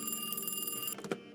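An office telephone rings in the Alone in the Dark video game, giving one short, faint electronic ring that cuts off after about a second, followed by a couple of soft thumps.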